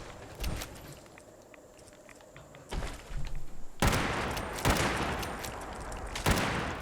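Rapid bursts of gunfire in Fallout 76, starting as scattered sharp shots and building into dense, sustained volleys from about the midpoint, loud and close with a few heavy thuds mixed in.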